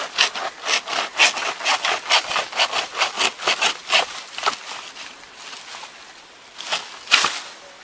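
A banana plant on a farm is hacked through with a blade in a quick series of sharp, rasping strokes, evenly paced, close and fairly loud, thinning out to a few final cuts.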